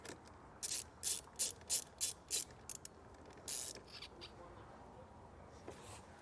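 A ratchet wrench tightening a nut down on a stud over a ring terminal for a trailer brake controller 7-way wiring kit, about eight quick clicking strokes followed by a few fainter ones, close and crisp.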